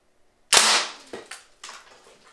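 A homemade gun firing a coin goes off with one sharp, loud crack, followed by a couple of fainter knocks and rattles as the coin strikes and tumbles nearby.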